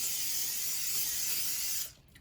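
A steady hiss of aerosol cooking spray lasting nearly two seconds, close and continuous, then cutting off abruptly into quiet.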